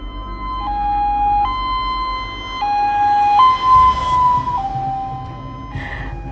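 An ambulance siren wails loud and close in a two-tone hi-lo pattern, stepping between pitches several times over a low engine rumble, with no talking.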